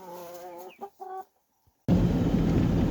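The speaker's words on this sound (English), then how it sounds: "We got a new rooster." A newly acquired farmyard rooster gives a few short, close clucks and calls in quick succession, then falls silent before a burst of loud rustling noise takes over.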